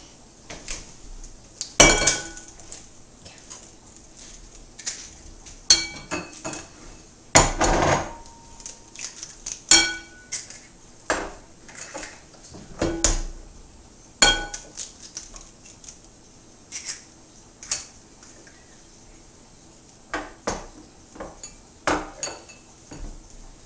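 Cake ingredients such as butter, sugar, baking powder and flour go into a mixing bowl, producing scattered clinks, taps and knocks of utensils and containers at irregular intervals, close by with no talking.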